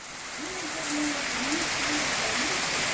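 Rain falls during a summer thunderstorm at a country house, a steady broad hiss that swells slightly, with a low murmuring voice faintly underneath.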